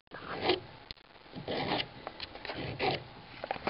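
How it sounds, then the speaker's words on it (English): Metal scraping against metal while brake pads are changed on a vehicle, a series of rough rasping strokes at close range, several bursts of grinding friction with short pauses between them, no voices. "Metal scraping metal."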